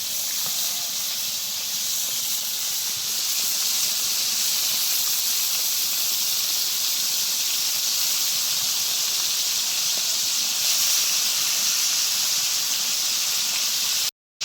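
Pangas fish belly pieces frying in a pan give a steady, dense hiss that runs unbroken for the whole stretch at close range, then cuts off abruptly at the very end.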